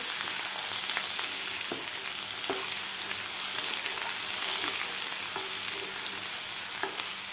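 Spice masala sizzles steadily in oil over a medium flame for a village-style bitter gourd curry, with a continuous frying hiss broken by occasional soft spatula scrapes and taps against the pan.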